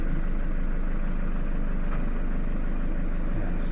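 A pickup truck engine idles steadily at close range, a continuous low rumble holding even throughout with no voices over it.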